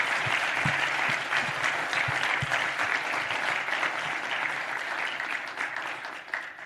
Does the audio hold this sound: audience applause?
yes